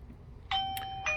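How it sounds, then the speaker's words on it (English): A Eufy video doorbell chimes as it is pressed, two bright ringing tones about half a second apart, clear and close over a faint room hum. "So let's go ahead and ring the doorbell now."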